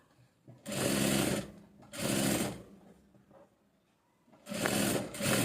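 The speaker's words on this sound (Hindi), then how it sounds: "ये देखिए सिलाई लग गई।" Sewing machine stitching a salwar, running in three loud, steady bursts separated by short pauses, with no talking over the whirring.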